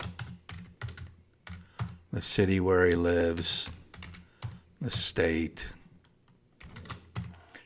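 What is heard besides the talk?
typing on a computer keyboard while entering member details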